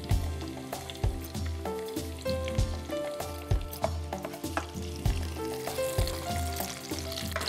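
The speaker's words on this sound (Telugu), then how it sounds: "ఆనియన్స్ ఫ్రై అవ్వాలి" Onions frying in a pan with oil, a steady close sizzle with bursts of crackle and occasional stirring scrapes, fairly quiet and with no voices.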